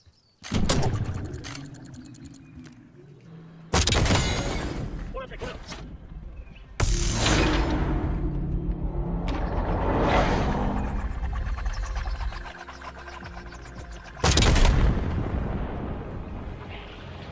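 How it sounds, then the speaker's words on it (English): Spawn tube launches and gunfire in the video game Black Ops 6: several sharp, loud blasts and bursts, each followed by rumbling tails, with mechanical clatter in between. "and then shoot your tube while you're walking backward"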